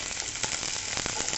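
Garlic fries in hot oil until lightly browned, giving a close, steady sizzle with crisp crackles and no gaps.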